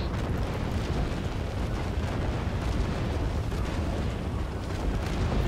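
Explosions rumble in The Elder Scrolls Online, merging into a continuous loud roar of deep booming and crackling blasts with no pause.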